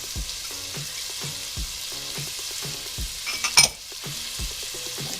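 Onions, garlic and fennel fry in a pan for a pasta sauce with mussels, a steady close sizzle with rhythmic stirring scrapes and a brief utensil clink, no talking.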